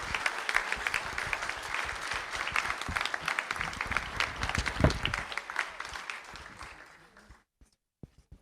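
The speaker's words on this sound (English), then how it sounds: "So please, a big round of applause for these fine folks right here." Sustained applause from an audience at a school board of trustees meeting, a dense wash of many hands clapping that holds steady for about seven seconds, then fades out with a few last scattered claps.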